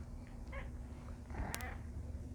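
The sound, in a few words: cat meowing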